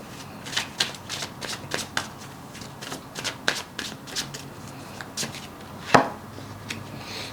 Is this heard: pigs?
no